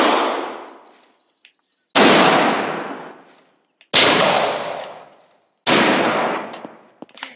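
Four loud gunshots from the Roblox game Georgia State Roleplay, spaced about two seconds apart, each with a broad crack and a long echoing tail, with no talking.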